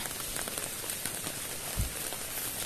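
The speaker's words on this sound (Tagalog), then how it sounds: "hanggang ngayon tuloy-tuloy na yung ulan" Steady, dense rain hissing on a surface, a continuous broadband wash with scattered drops and one low thump partway through, no voices.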